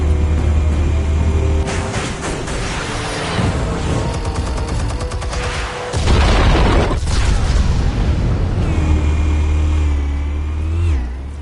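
Loud, sustained explosions in the Batman: The Telltale Series video game, with heavy booming blasts, crackling debris, and rumbling low-end roars that surge and subside across the clip, punctuated by a sharp burst midway and no voices.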